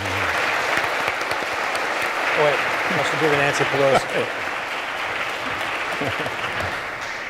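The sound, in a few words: audience applause for debate presenters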